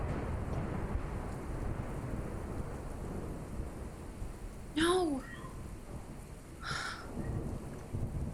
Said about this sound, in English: A rumble of thunder.